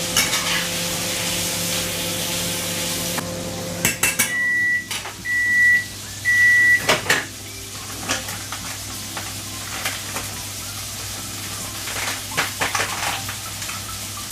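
Beef mince fries in a pan with a steady sizzle, punctuated by scraping stirs and clinks of a utensil against the pan and a few short electronic beeps partway through.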